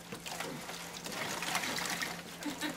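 Water trickles and splashes onto a small model hydro turbine, a continuous close liquid pour with faint voices in the background.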